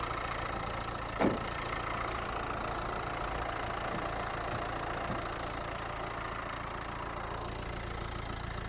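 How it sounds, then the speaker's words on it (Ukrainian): A 2018 Renault Kadjar engine idles quietly with a steady, even low hum and a faint knock near the start. "Двигун працює ідеально, без зауважень."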